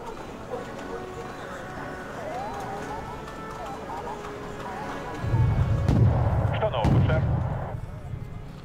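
Artillery fires in the Wargame Red Dragon naval battle, deep booming blasts thudding together midway over a background hum of game sounds, while someone talks throughout.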